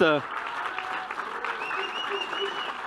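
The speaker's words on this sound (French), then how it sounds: "on peut applaudir Stathis Kouvelakis" Audience applause fills a hall at a political gathering on Palestine, steady and dense throughout, opening with a short spoken voice before the clapping carries on alone.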